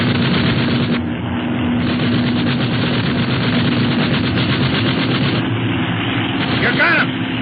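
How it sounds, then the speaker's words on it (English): Gunfire effects in an old radio adventure drama fill a steady, dense roar of rapid shots and engine drone, loud and continuous, with a brief rising whine near the end. "Okay, start shooting."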